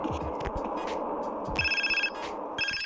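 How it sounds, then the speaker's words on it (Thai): A phone rings in the video game GTA San Andreas with two bursts of a bright electronic trill cutting over the game's low background noise and scattered thuds. "ใครโทรศัพท์มาอีกแล้วเนี่ย"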